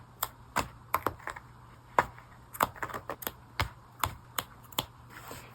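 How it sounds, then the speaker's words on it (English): Scissors cutting a coat seam apart to make doll clothes: a quiet series of sharp, crisp snips, about a dozen irregular cuts close up with no talking. "Let me just start in the back and cut the seam."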